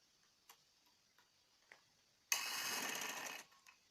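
A few soft, scattered ticks give way to one short, fast run of a sewing machine stitching piping around the neckline of a peplum top, stopping after about a second.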